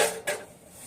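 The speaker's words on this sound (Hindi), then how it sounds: "फिलहाल बर्तनों को धोते हैं भाई।" Dishes and pots being washed by hand give a few close clinks and a scraping clatter of metal utensils, followed by quieter rustling.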